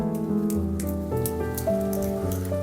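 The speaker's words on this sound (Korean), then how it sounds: "이 빗소리도 좋고" Steady rain falls at Songgwangsa, an ancient Buddhist temple, with a soft patter and scattered drops over a sustained tonal hum, and nobody speaks.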